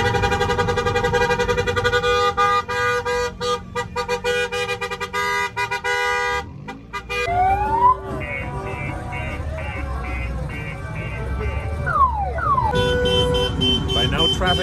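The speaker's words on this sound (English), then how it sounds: "By now traffic has stopped, so they're all honking." Car horns blaring in a stopped traffic jam on the streets of San Cristobal, many overlapping honks and long sustained blasts from several vehicles, loud and continuous with rising and falling tones over engine rumble.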